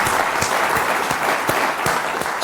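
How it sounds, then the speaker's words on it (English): A room of summit attendees gives a round of applause for the panelists, a steady dense wash of clapping that carries on loud and unbroken from start to finish. "could we give, in the true Sloan tradition, a huge round of applause?"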